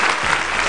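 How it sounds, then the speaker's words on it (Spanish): A live audience claps loudly at a Spanish stage show, a dense, even burst of applause that fills the whole brief moment. "¡Fuerte el aplauso, por Dios!"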